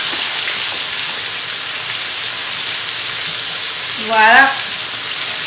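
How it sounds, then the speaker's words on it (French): Pieces of flour-dusted tilapia fish fry steadily in hot oil, a continuous close hiss and crackle running through the whole stretch, with a short spoken word near the end. "On va laisser frire complètement."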